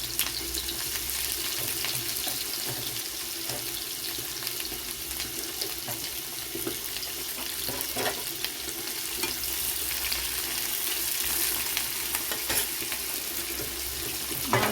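Onions sizzle and crackle steadily in hot oil in a home kitchen pan, frying for a fish kalia, a continuous bright hiss with occasional stirring and no talking.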